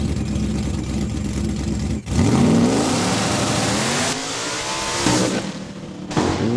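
A red Mustang drag car launches hard down the strip at Saskatchewan International Raceway, its engine roaring loud and close, rising through rapid gear shifts with sharp breaks between them, no talk.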